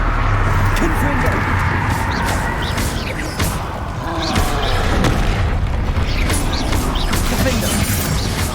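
Repeated Confringo spell blasts in the Hogwarts Legacy video game: loud, close booms and crackling impacts in quick succession, with battle noise and voices casting spells around them.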